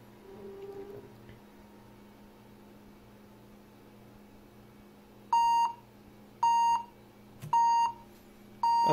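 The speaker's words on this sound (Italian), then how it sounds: "Sentirete diversi beep, è normale." A series of short, identical BIOS recovery beeps from an HP Pavilion laptop sound at a steady pace over a faint hum, four evenly spaced tones after a quiet stretch.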